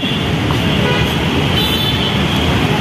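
Riding in an auto rickshaw through Navi Mumbai traffic: a loud, constant road roar with engine rumble and passing vehicles, a few horn toots cutting through the dense, close noise.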